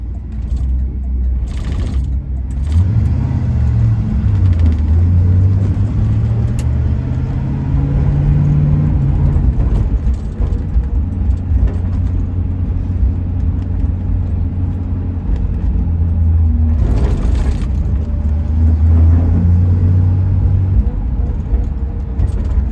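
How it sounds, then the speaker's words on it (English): A 1974 Pontiac Trans Am rolls over choppy, uneven pavement, with a steady low engine and road rumble filling the cabin and soft thumps from repeated bumps, heard from inside without any talking. "Some very choppy, uneven road. We're hitting bump after bump."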